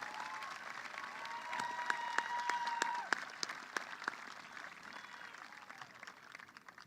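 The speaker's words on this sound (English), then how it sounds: "Please join me in a round of applause for the scholarship winners" Scattered clapping from an audience at a high school graduation ceremony honours scholarship winners, light and a little distant. A sustained tone sounds partway through, and the clapping thins out toward the end.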